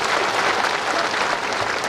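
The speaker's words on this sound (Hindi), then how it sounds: "ताली बजाओ" Dense, continuous applause from a large audience at a political rally in Chhattisgarh, loud and steady throughout with a faint crowd murmur beneath.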